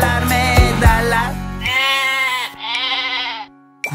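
Farm lambs bleat in a children's animal-sounds song: a few loud, close, wavering bleats set against bright musical backing.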